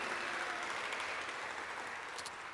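A school awards ceremony audience applauds student representatives, a steady, full-room wash of clapping that slowly tapers toward the end.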